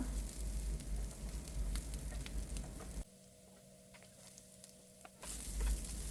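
Garlic and ginger fry in hot coconut oil with a soft crackling sizzle, broken by a quieter stretch midway before the frying swells again, no voices over it.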